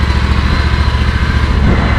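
A ride-on lawn mower engine running steadily nearby, a loud, constant droning hum with no pauses and no talk.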